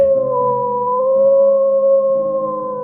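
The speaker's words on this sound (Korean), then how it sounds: "어딘가에서 늑대 울음소리가 들려왔다." A long, sustained wolf howl in a night setting near a castle, one steady tonal cry holding throughout with a fainter harmonic layer beneath, loud and alone with no talking.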